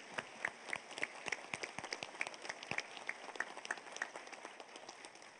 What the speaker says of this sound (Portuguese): eu queria pedir uma salva de palmas aí a todos vocês, para a Lígia e para os nossos painelistas.